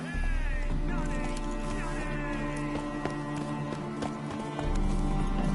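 A horse's hooves clip-clop at a steady running pace in The Witcher 3: Wild Hunt, continuous and close, laid over a bed of music.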